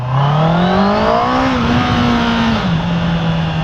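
Honda CBR650R E-Clutch motorcycle accelerating hard, its engine note climbing steadily in pitch through the revs before a brief dip at a gear change, loud and close with wind rush.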